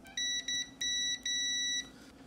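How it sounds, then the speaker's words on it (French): A multimeter set to continuity emits short, high electronic beeps, four of them at uneven lengths within two seconds, clear against a faint background hum while checking tantalum capacitors on an Amiga 1200. "je mets le multimètre sur continuité"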